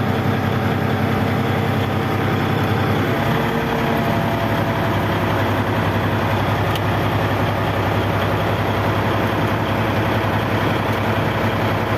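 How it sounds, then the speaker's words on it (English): A heavy engine rumbles to life a few seconds in and settles into a steady, loud idle that drones on alone. "Then start the engine."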